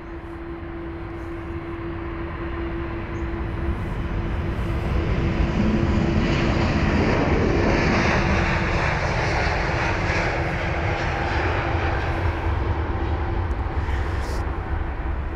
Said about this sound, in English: Here's the Aegean 321neo.